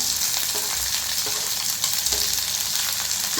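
Ginger, shallots and green chili sizzle and fry steadily in a frying pan, a dense, continuous crackle close by with occasional stirring scrapes.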